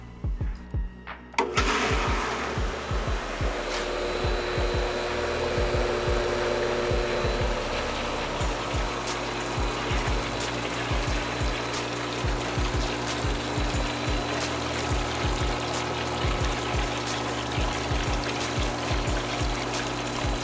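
A pool sand filter pump starts up after a brief quiet stretch and then runs steadily, a loud continuous motor hum with rushing water and a busy rattle of small repeated clicks.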